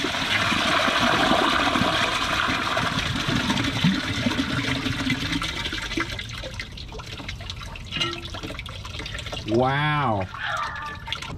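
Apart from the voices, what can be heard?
toilet flushing thick tissue paper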